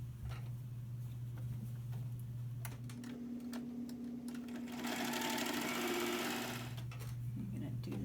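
A sewing machine stitches a seam closed on a drawstring backpack, its motor whirring in bursts with a shift in pitch mid-run, close and clear over a quiet room.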